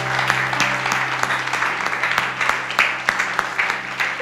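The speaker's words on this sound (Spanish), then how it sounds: "Ponte de pie, dar un aplauso grande a la palabra de Dios." Congregation applause fills a church service after a call to stand, a dense steady wash of many hands clapping throughout, fairly loud and close with a low sustained musical hum underneath.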